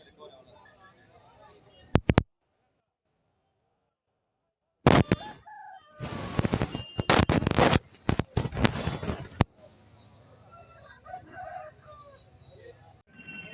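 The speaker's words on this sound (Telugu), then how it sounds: "ఒంగోలు నాటుకోళ్ళ సంత అండి ఇది." Ongole native chickens at a market, with clucking and a rooster crowing in loud, close bursts around a brief silent gap, set against market background noise.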